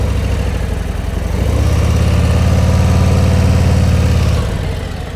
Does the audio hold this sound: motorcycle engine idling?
yes